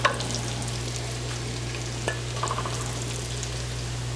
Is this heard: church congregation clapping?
no